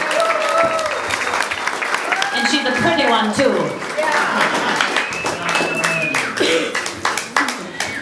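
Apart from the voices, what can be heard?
audience applause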